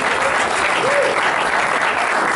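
Steady, dense applause from a comedy-show audience at the Hellenic Club in Perth, loud and even across the whole stretch with no pause.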